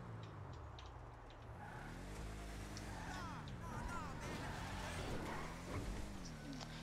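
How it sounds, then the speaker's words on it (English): A muscle car, the Gauntlet Classic Custom, drives in the game GTA V with a steady low engine drone and shifting revs throughout, while a voice talks over it. "So it's a muscle car, it pulls wheelies,"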